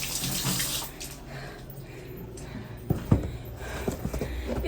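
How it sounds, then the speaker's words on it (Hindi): Tap water runs steadily while a woman washes her feet after walking on a muddy road, with a soft splash and a few brief knocks and splatters partway through. "पहले पाँव धो लेती हूँ।"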